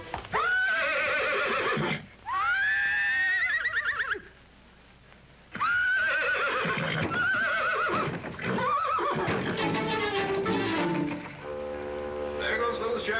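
A spirited racehorse at the track neighs repeatedly in loud, wavering whinnies, with a quieter pause between calls and brief clip-clop of hooves near the end.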